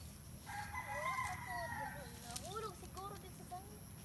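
Roosters crowing on a small farm in Culaba, Biliran, Philippines, several rising calls repeating in the middle distance over steady background noise and low rumble.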